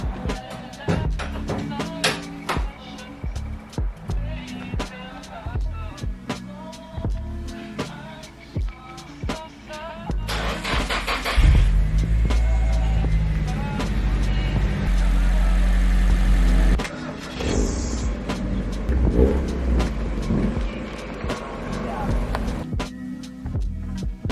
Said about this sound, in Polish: wrzucam akumulator i przepalę go trochę, bo w sumie stoi długo w garażu nieodpalany